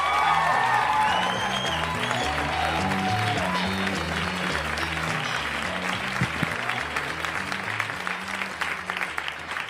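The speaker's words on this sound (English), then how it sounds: "Let's give him a big rousing round of applause for Orlando Baxter" A comedy club audience applauds for comedian Orlando Baxter, a dense, steady wash of clapping with scattered cheers that slowly thins, while music plays faintly underneath.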